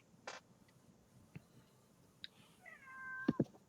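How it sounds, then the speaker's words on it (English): A cat meows faintly in an otherwise quiet room, with a drawn-out meow rising near the end followed by a couple of short sharper calls, and a few small ticks scattered before it. "I hear a cat."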